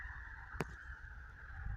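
A single short honking call from a duck cuts through a steady outdoor background of wind and river water, fairly distant.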